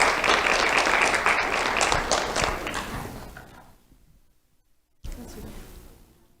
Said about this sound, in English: Let's have a round of applause for Christian